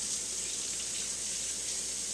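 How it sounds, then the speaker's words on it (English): Cold tap water runs in a steady, even hiss from a faucet over sliced onions being rinsed, close and continuous, with no voices. "rinse it off with cold water right away"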